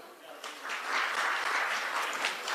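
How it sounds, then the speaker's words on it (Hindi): An audience at a Hindi comedy poetry show claps on request, a quick, lively burst of applause that builds within the first second and stays strong for the rest of the clip. "चलिए एक बार ताली बजाइए।"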